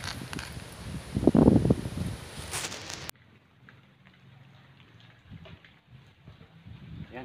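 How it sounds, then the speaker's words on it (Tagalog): Strong wind gusts through a vegetable garden of eggplant and tomato plants flattened by Typhoon Ulysses. It makes a loud, rushing, rustling roar for about three seconds, then cuts off abruptly to a much quieter background. "malakas pa ng hangin oh"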